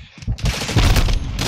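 A single shotgun blast in a video game, loud and close, with a sharp burst followed by a rattling, clattering tail across a short moment.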